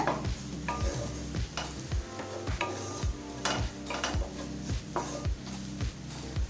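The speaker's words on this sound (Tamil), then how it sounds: "1 நிமிஷம் வரைக்கும் நல்லா வதக்கிக்கலாங்க." Chili powder is sautéed in a pan for tindora fry, with a spatula scraping and stirring in rhythmic strokes over a soft sizzle, close and steady with no talking.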